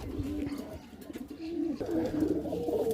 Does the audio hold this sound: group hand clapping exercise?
no